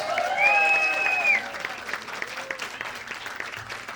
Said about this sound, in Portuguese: Palmas, polícia, gente, palmas.